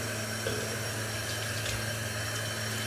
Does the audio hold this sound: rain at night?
no